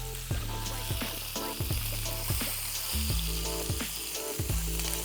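Masala chicken breast fries slowly in a pan with a soft, steady sizzle under looping rhythmic background music and its low beat.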